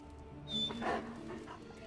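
A dog in the video game Midnight Suns gives a brief, high whimper and a soft yip, moderately loud over a low steady game background.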